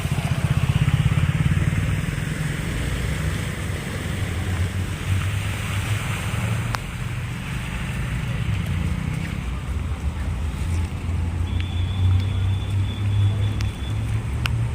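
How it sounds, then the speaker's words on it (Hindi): Motorbikes and cars drive through a deeply flooded road with their wheels submerged. A low engine rumble runs under a steady wash of churning water, and a voice is heard speaking at times. "देखो बाइक के और गाड़ी के देखो पहिया पूरे डूब जा रहे हैं"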